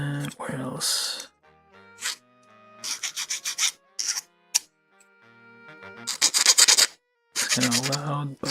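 Short rasping bursts of sanding as nubs are rubbed off plastic parts of a Bandai 1/35 HG model kit, a DaisyOgre ALTER, close and fairly loud, alternating with a person talking.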